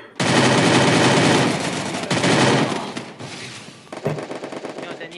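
Loud, sustained bursts of rapid automatic gunfire in a video game, close and intense, tapering into scattered shots near the end.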